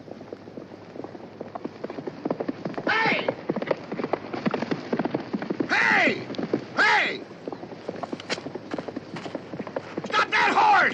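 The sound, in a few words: horse running loose, hooves clip-clopping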